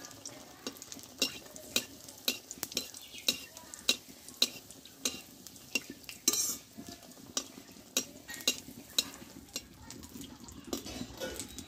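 Eggplant slices fry in oil in a pan, a soft steady sizzle broken by frequent sharp clinks and scrapes of a utensil turning them.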